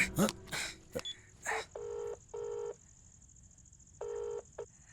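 A phone is dialed with short, clean touch-tone beeps in separate groups over a quiet background, after a few brief clicks and rustles at the start.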